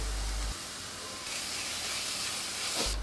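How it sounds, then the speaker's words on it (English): Chopped onions and mixed vegetables sizzle in hot oil in a pan for a momo stuffing, a steady close hiss that swells after a moment and runs on without talk. "To make the stuffing for momos, I will add some oil to a pan. Then to that I'll add the chopped onions along with the chopped veggies"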